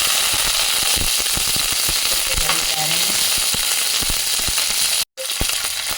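Mustard seeds and curry leaves crackle in hot oil over a lowered gas flame, a loud dense sizzle running the whole way with light stirring clicks and a brief dropout near the end.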